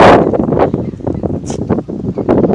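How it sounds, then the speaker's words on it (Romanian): Strong wind buffets the microphone in heavy, uneven gusts at an outdoor apiary of reed beehives, a loud rumbling roar with no voices. "afară la noi bate un vânt foarte puternic"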